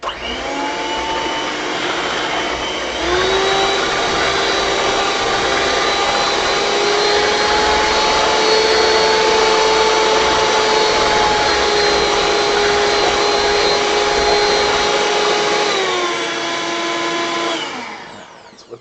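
A new electric kitchen mixer runs loudly and steadily for about eighteen seconds with a constant whirring motor drone. Its pitch rises slightly after the first few seconds and falls away as it stops at the end.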